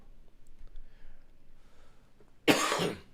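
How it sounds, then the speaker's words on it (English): A single harsh cough bursts out close by after a few seconds of near silence. "Still got the cough, but it's getting better."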